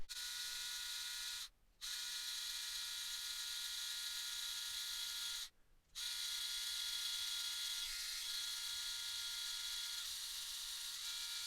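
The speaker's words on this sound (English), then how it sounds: "I just drilled out the head of the screw" A power drill bores out the head of a rusted, stripped screw on a small toy action figure, a steady high whine running throughout and cutting out twice briefly before resuming, with no talk.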